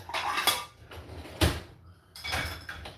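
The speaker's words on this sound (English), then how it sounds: "Man, I'm doing the dishes like a beast." Dishes clatter during washing in a video game, with repeated clinking of plates and cutlery in uneven bursts over a steady wash of noise.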